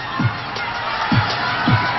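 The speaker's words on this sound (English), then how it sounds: "Look at this crowd." Crowd cheering and roaring at a volleyball match in a packed arena, a steady loud wash of voices from near and far with a few brief surges, the commentator's voice underneath.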